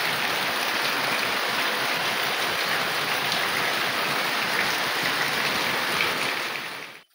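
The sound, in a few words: heavy rain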